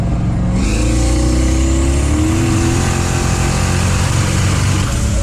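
A 900whp 1998 Pontiac Firebird Trans Am with a very loud, close, roaring engine accelerates hard, the pitch climbing steadily through second gear and into third with no one talking.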